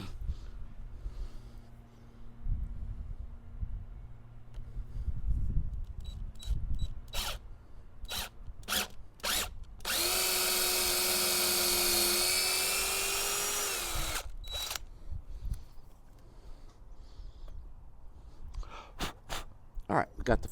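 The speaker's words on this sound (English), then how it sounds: "Let's drill a hole." A power drill bores a hole through an antenna mast hinge for a 7/16 socket-head bolt, a steady loud whine of about four seconds rising mid-clip amid scattered handling clicks and knocks.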